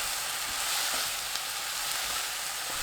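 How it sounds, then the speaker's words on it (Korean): Scallion stems and king oyster mushrooms stir-fry with fine salt in a hot pan, giving a steady, close, broadband sizzle with no voices. "쪽파 줄기 부분, 고운 소금 3분의 1 큰술 넣고 1분 볶아주세요."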